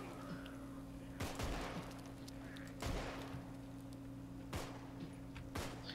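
Gunfire in the zombie video game Contagion comes as sharp, spaced cracks, about four shots over a steady low background hum, with no talk over them.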